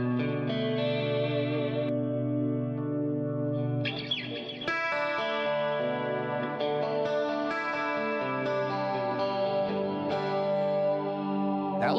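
Electric guitar played through an amp modeler such as a Helix Stadium or Quad Cortex, with Vox AC30 and Marshall amp tones, sounding as clean chorus-tinged chords and ringing notes, steady and moderately loud, no talk.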